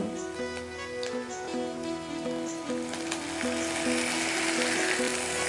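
Milk poured into a simmering curry in a pan, giving a continuous close bubbling sizzle with faint clinks, steady throughout with no speech.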